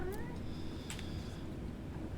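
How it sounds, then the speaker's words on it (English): A cat meows in a short upward-gliding call, followed by a brief higher cry over a steady low room hum. "Freaking cats, man."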